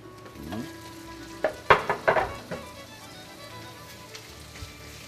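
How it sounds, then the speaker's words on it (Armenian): Chicken breast pieces fry in a pan with lightly browned onions for a warm salad, a soft sizzle broken by a cluster of sharp stirring clanks against the pan, otherwise fairly quiet. "Հավը տապակենք։"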